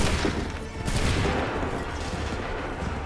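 Massed musket volley in a period battle from the game Assassin's Creed 3 Remastered, a dense sustained crackle of gunfire and booming reports filling the whole stretch, loud and continuous with no clear gaps.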